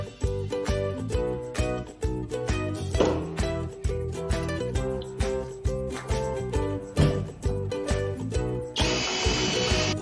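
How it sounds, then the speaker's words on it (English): A power drill drives screws into a fuel tank during installation of a capacitive fuel sensor. Rhythmic music plays throughout, and a short, loud, close whirring burst from the drill comes near the end. "After fixing, reinforce with screws."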